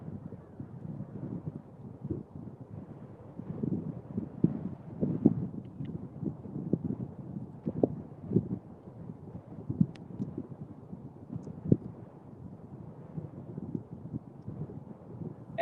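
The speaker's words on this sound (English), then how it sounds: "if this wind picks up anymore" Strong wind blowing across a river during a fishing trip, heard as a constant low rumble of wind buffeting the microphone with irregular gusty thumps, no voices.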